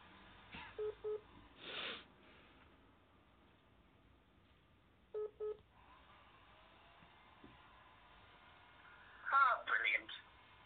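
A mobile phone dials a call with a few short, faint tone pairs, followed by a brief burst of ringing or line tones near the end, over low background noise.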